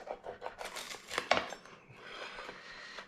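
A metal cutter scrapes and crunches through a crispy homemade pizza, with a few close, sharp cuts followed by a softer scraping tail.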